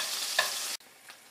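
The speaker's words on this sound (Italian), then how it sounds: "la prima cosa che dobbiamo fare è quella di stemperare l'acciuga in questo fondo d'olio" Garlic and anchovy fillets frying in a shallow pool of olive oil give a soft, brief hiss with one light utensil tap, dropping sharply quieter partway through.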